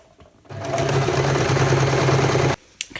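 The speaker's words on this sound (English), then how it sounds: "I'm going to back tack at the front and the end and just stitch it all the way down." Sewing machine stitching bias tape along a seam of a Truffle coat, a steady loud motor whir lasting about two seconds, starting and stopping abruptly with quiet moments on either side.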